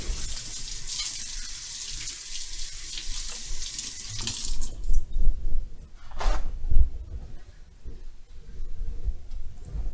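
Fresh parsley is washed under a running kitchen tap, giving a steady, loud splash of water with occasional louder gushes and sloshes as the bunch is moved under the stream.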